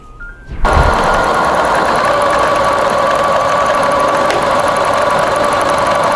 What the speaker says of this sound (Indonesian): Setelah itu kita potong ya, dan ganti menjahit bagian furing. Yuk kita jahit.